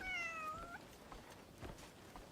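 A cat in the video game Crimson Desert gives a short rising meow, a single clear call over a quiet game ambience with soft footsteps and faint background sound.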